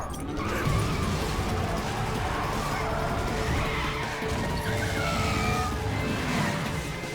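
Game car chase in Metal Gear Rising: Revengeance, a dense roar of engines and tire skids running steadily and loudly throughout, with a speaking voice faintly under the noise.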